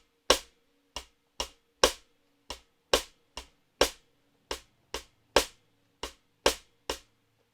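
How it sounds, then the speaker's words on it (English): A Brazilian partido alto clave pattern tapped as fourteen crisp, dry hits in a syncopated grouping, close and clear with nothing else sounding. "So this pattern, the clave, is called the partido alto, and it comes from Brazilian music"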